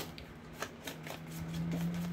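Tarot cards being shuffled for a reading, a brief run of soft riffling flicks up close, with a faint steady hum underneath.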